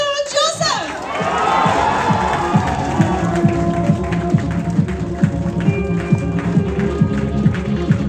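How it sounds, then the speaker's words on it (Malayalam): Crowd at a film pre-release event and actor fan meet claps and cheers loudly in welcome for director Jeethu Joseph, with sustained applause, shouts and children's voices after a brief musical intro. "ഒരു വലിയ കൈയടിയോട് കൂടിയിട്ട് നമുക്ക് സ്വാഗതം ചെയ്യാം ജീത്തു ജോസഫ്."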